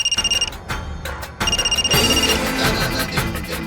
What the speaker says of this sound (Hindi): मौजी, राधेश्याम जी का फोन है